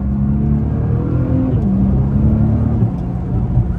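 A Nissan R35 GT-R with its exhaust drones loudly and steadily, the engine note rising and falling slightly as it cruises, close and continuous with no talk.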